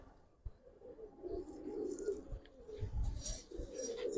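Giribaz pigeons coo close by in low, throaty rolling phrases, two or three soft bursts with short gaps, in an otherwise quiet space without talk.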